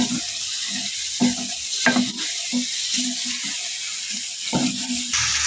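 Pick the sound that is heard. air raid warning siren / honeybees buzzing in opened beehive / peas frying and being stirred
peas frying and being stirred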